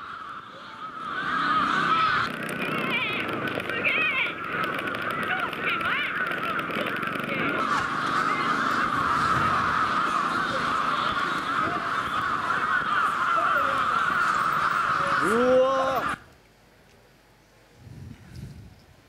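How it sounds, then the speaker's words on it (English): A large flock of crows caws nonstop over a street in Shibuya, Tokyo, a dense overlapping chorus that cuts off abruptly near the end, leaving faint background noise. "Like how many crow were there?"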